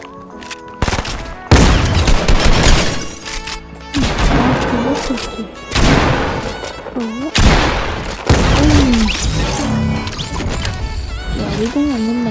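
Gunfire in an online shooter, loud repeated bursts of automatic fire and single shots in waves, close and dense, with someone talking over the action.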